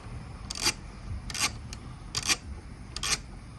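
Four short scraping, rasping metallic bursts at close range as 13mm hood bolts are inserted on a Fisker Ocean, spaced under a second apart over a faint background, with no talking.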